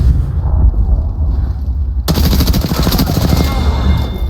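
Rapid automatic gunfire in the Titan Halo video game erupts loud and dense after a quieter stretch of rumbling ambience, with continuous shots hammering away to the end.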